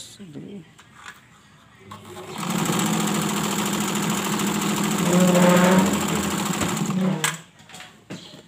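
A portable sewing machine runs in a continuous whirring, buzzing burst for several seconds, rising slightly in pitch midway, with brief speech and handling noises before and after.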